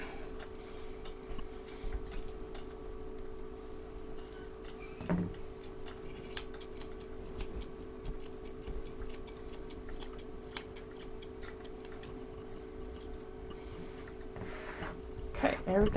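Close, rapid snipping of grooming scissors trimming matted hair from a cocker spaniel's feet, a quick run of crisp clicks under steady low buzz, with a person talking.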